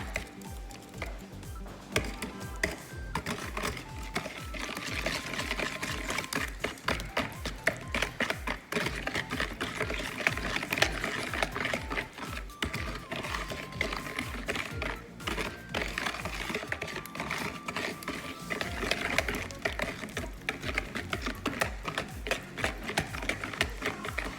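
Cookie dough with two large eggs being mixed in a bowl for soft chocolate chip cookies, giving a continuous busy clatter and tapping throughout.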